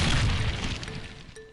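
A booming explosion from the video game Final Fantasy IX, one heavy blast at full level right from the start that slowly fades, heard alone with no talk.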